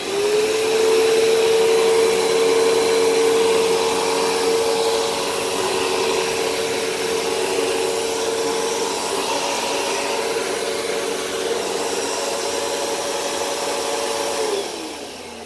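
An old upright vacuum cleaner runs steadily with its brush roll spinning, giving a loud continuous whine and scratchy whir for about fifteen seconds before the pitch drops as it powers down.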